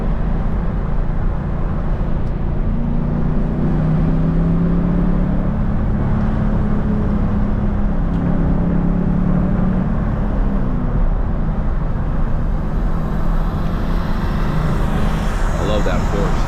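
A 2003 Ford SVT Cobra driving on a road, a steady loud engine and road roar from inside the car that never lets up, with some faint talk underneath.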